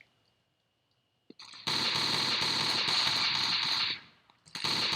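Automatic weapon fire from the video game Marathon, a sustained loud burst of rapid shots lasting over two seconds, then a brief pause and another burst starting, preceded by near silence and a single click.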